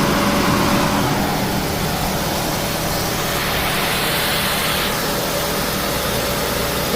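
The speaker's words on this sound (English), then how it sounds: "Both our fans are on." Radiator cooling fans spinning on a 2003 Toyota Celica GT 1.8L, a steady loud whooshing whir of air over an idling engine hum, continuous and close throughout.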